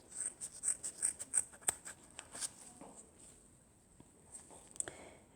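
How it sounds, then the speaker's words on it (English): Scissors snip through a folded strip of wax paper, a quick run of close, crisp cuts at a steady rhythm before the strokes thin out into a few softer, scattered snips. "then take the scissors and cut up the middle."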